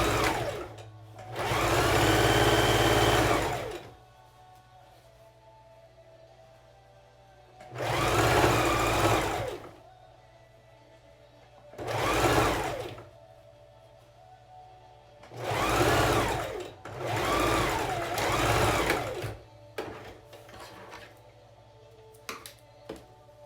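A sewing machine stitches the seam of a fabric face mask with a filter pocket, running in five loud, steady bursts of a few seconds each, separated by quiet pauses, close by.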